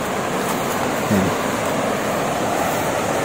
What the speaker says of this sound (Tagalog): Dito na tayo sa sapa